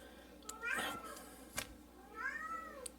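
A house cat meows twice, close and clear, each short call rising and falling, the pair spaced about a second and a half apart in a quiet room.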